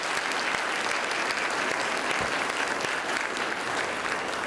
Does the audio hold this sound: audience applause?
yes